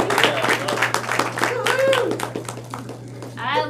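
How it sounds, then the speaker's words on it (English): A team meeting audience claps for Adriana, scattered, moderately close hand claps mixed with cheerful voices and chatter, the talk often louder than the clapping. "And let's give her a round of applause."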